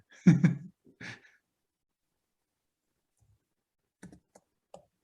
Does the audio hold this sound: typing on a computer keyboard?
yes